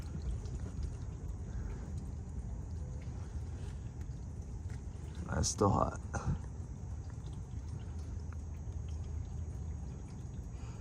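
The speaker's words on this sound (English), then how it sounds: "it's draining into that little hole. It's bubbling." Used engine oil from a Chevy Silverado V8 drains and bubbles into a small hole, a low steady gurgling wash with a brief louder burst of splashing midway; a voice speaks briefly.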